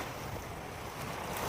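Ocean waves wash at a beach in a brief, steady broadband rush of surf and wind, soft and continuous with no voices.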